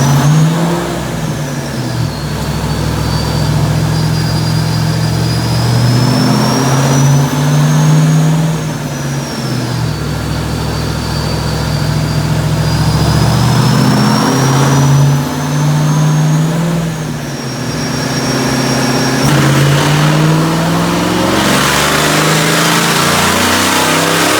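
A car engine fitted with a Vortec V3 supercharger revs hard on a dyno, loud and continuous, its pitch climbing and falling through several pulls while a high supercharger whine rises and dips above the engine roar.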